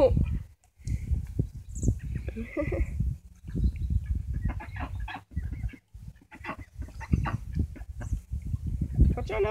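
Mallard ducks quacking repeatedly at a park on a cold day, a dense, close, raucous chorus of calls with a person talking at times amid the flock.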